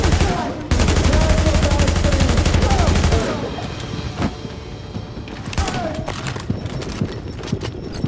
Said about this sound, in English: Why is this guy shooting through the floor, man?